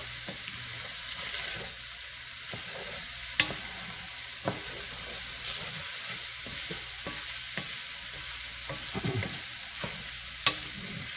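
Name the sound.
stirring chili in a pot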